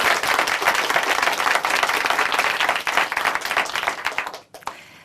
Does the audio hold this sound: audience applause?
yes